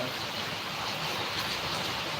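Rain falls in a steady, even hiss of moderate loudness, continuous throughout with no distinct drops standing out and no voices.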